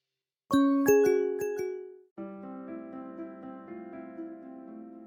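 A notification bell chime plays alone, starting with several quick bright bell strikes and then a sustained ringing chord that slowly fades, clean and upfront against silence.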